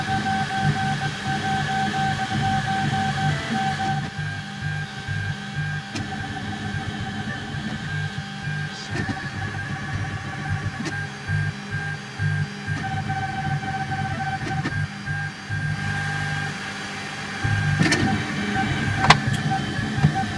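A DaVinci 1.0 3D printer prints Ninjaflex flexible filament, giving a continuous whirring hum with steady stepper-motor whine and irregular mechanical clicks and buzzes, fairly loud and close throughout.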